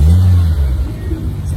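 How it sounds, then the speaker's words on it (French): A Caterham sports car drives past at a classic car gathering on Place Vauban. A close, loud, low engine rumble fades slightly as it goes by. "Là, vous voyez une Caterham qui passe devant."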